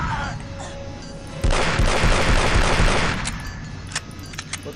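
Automated sentry turret in Aliens vs Predator 2 opening rapid sustained fire, a loud dense burst of gunshots lasting a couple of seconds, then scattered lighter pops trailing off.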